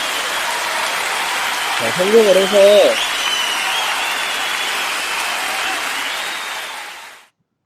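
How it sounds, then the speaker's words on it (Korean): Applause sounds out in a block-building video game, a steady hiss of clapping that lasts several seconds before cutting off abruptly, with a short melodic chime and a brief spoken word near the start. "이 블럭이 뜨면서 게임이 멈췄고 박수 소리가 났어요"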